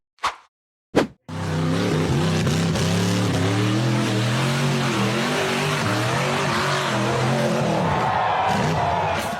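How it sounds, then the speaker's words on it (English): A bare green steel-frame off-road buggy roars up a steep rock face, its engine revving hard and continuously at close range after two brief knocks, rising in pitch as it climbs and flips. "The bare steel frame buggy accelerated hard up the steep rock face"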